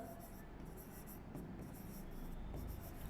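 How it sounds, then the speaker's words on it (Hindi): Marker or chalk writing on a board during a Hindi-language maths lesson on circles, heard as continuous scratchy strokes in a quiet room with no speech. "एंड यहां लिखेंगे डायमीटर"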